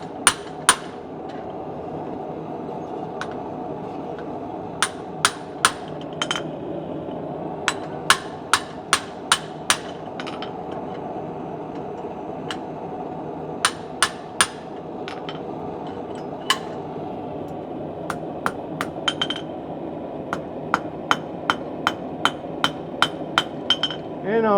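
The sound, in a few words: blacksmith hammering hot steel, forging a candle holder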